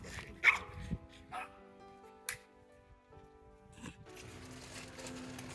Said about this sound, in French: j'ai pris le temps d'écouter des chiens se chamailler qui m'ont bien fait rire